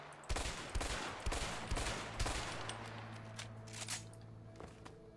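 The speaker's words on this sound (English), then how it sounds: "Let's see what these guns can do. Lots of empty houses here. Let's shoot at them." Bursts of gunfire from guns shot at empty houses in the video game A Way Out, several rapid loud cracks clustered in the first seconds, then thinner scattered shots fading under a steady background hum.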